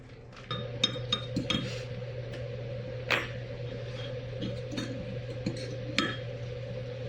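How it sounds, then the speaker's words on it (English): Eggs are beaten in a bowl in a home kitchen, with a steady hum behind repeated light clinks and taps of utensil against the bowl, faint and close. "Excuse me while I beat my eggs."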